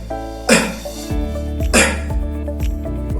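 A beatboxer produces cough snares, two loud explosive bursts imitating a snare drum with a coughing, sneeze-like attack, set over a steady looping beat with regular low kick thumps.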